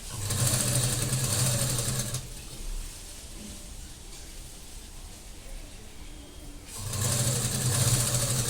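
Sewing machine stitching piping onto a lined blouse in two short bursts at start and end, with a quieter stretch of room noise between, close by.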